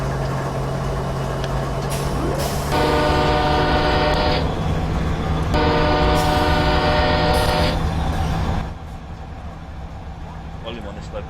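An ES44AC diesel locomotive in NS heritage livery rumbles steadily in Train Simulator 2016 on Horseshoe Curve, sounding two loud, long blasts of its multi-tone horn before the engine drone drops to a lower level.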